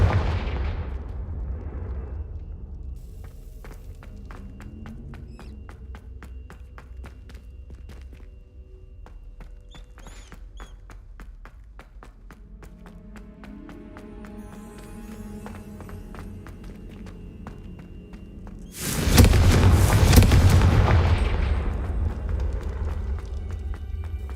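Fire-blast spells in the Hogwarts Legacy video game, heard as a booming burst of explosive noise late in the clip after a stretch of quieter game ambience and soft footstep-like movement, with no talking.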